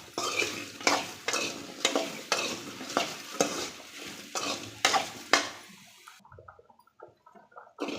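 Okra stir-fries in a hot pan, a ladle scraping and stirring in a steady rhythm of about one stroke per half second over a continuous sizzle, then quieter light clinks.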